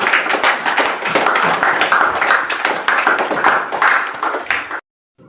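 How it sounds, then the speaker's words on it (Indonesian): A class of schoolchildren clap their hands together in a dense, loud burst that runs for almost five seconds, then stops abruptly into near silence. "Silakan tepuk tangan untuk kita semuanya"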